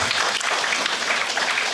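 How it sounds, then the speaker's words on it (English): Brief, dense applause from an audience at a company success meet honoring a team, a continuous rush of many hands clapping at an even level throughout. "A big round of applause for the team."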